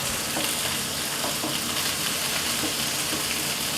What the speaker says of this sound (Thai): คราวนี้นะครับผัดพริกแกงสักครู่หนึ่งก่อนครับให้หอมๆก่อนครับ